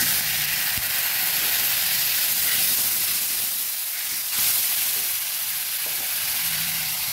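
Steady loud hiss and sizzle of a little water hitting hot ground coriander and cumin powder in a pan while cooking a vegetarian banana-flower dish, continuous throughout with no voices.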